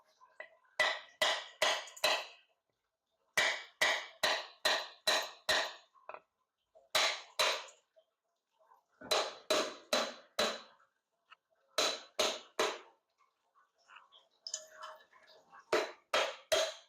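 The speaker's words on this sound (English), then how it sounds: "First, I'm going to open up the coconut." A coconut is split open on a kitchen counter with repeated hammer blows, sharp close knocks falling in quick runs of three to five strikes separated by short pauses, with no talk.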